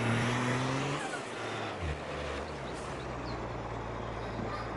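Truck in Farming Simulator driving and braking, a continuous loud engine rumble whose low drone dips and shifts pitch midway as it slows, with no talking.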